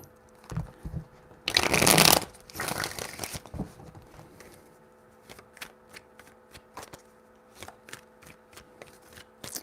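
Tarot cards being shuffled by hand, a dense riffling burst followed by a few shorter shuffles and then scattered light taps and card snaps, close and clear with no talking.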